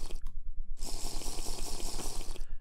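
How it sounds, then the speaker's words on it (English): Drinking water in Minecraft: a steady run of rapid, evenly spaced gulping pulses, fairly quiet and alone, after a short pause at the start. "Just gonna chug this water here."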